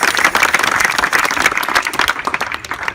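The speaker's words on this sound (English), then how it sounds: "Give yourself a round of applause." An audience at an outdoor water-rights gathering in Mahwah, New Jersey, breaks into loud, sustained applause, dense clapping that stays strong for several seconds before thinning slightly at the end.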